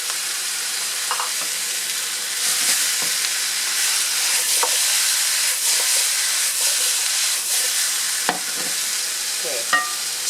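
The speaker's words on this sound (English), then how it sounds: "Then I'll go ahead and add my carrots." Carrots tossed into a pot of softened aromatics for a beef stew in creamy mushroom gravy give a continuous bright sizzle and hiss, broken by scraping stirs and small clicks of the utensil, with no talking.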